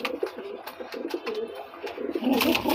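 A male pigeon coos nearby in soft, repeated throaty notes, with a louder rustle near the end.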